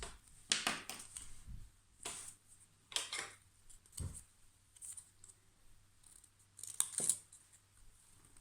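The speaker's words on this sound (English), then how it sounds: "draw it on one half of your card, and that's where we cut." Scissors snip through craft card in a series of short, crisp cuts, roughly a dozen separate snips spaced irregularly and heard close up, with no talking.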